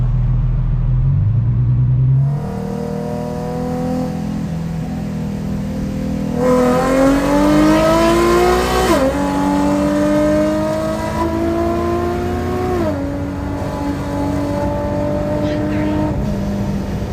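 A supercharged Nissan 370Z Nismo with automatic transmission pulls hard in third gear, its engine roaring and climbing in pitch through long rising sweeps with brief dips at the shifts, loud from inside the car.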